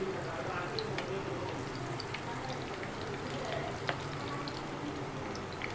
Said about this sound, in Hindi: इसे हम ऑयल में डाल के फ्राई कर रहे हैं।